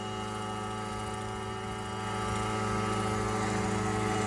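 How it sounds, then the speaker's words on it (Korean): An unmanned crop-spraying drone helicopter drones continuously overhead, a steady tonal rotor and motor hum that swells slightly louder partway through, with no talk. "드론 항공 방제입니다. 무인 헬기이고요."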